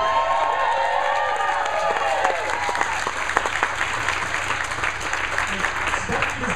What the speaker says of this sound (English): Stephanie deserves the applause, absolutely.